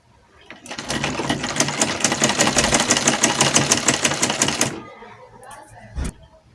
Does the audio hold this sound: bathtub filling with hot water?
no